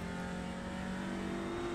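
Touring car engine note from a racing video game, a steady mid-pitched drone with a sustained tonal hum, holding constant for under two seconds with no talk.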